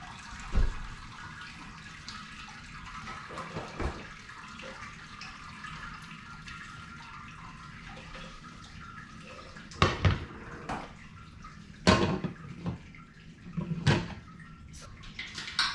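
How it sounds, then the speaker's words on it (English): Water rinses over a bag of grain during the sparge of a small all-grain homebrew batch, a low steady trickle running throughout with a few sharper splashes and knocks standing out near the end. "trying to get as thorough a sparge as possible"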